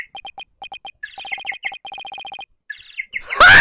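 A phone ringtone that imitates a penguin plays as rapid, repeated electronic chirps in short bursts, clear and close, ending in a loud noisy swell.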